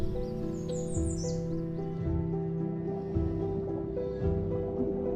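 An island forest bird in Chile gives a few high chirps early on, set against steady low tonal drones and soft rustling, with no talk.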